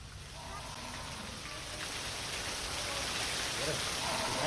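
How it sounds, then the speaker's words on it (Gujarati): Rain falling in Dayapar and Khanai, Lakhpat, in the Rann-edge area of Kutch during the monsoon, a dense continuous hiss that grows slightly heavier, with no talk over it. "લખપતના દયાપર, ખાનાઈમાં વરસ્યો છે વરસાદ"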